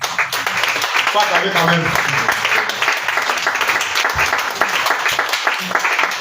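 A church congregation applauding the Lord, dense sustained clapping from many hands throughout, with voices speaking and calling out over the applause.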